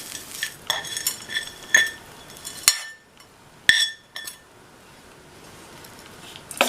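A spoon stirs a lentil and grated coconut tempering into kozhukattai rice dough in a bowl, making scattered clinks and scrapes against the bowl with quieter stretches between them.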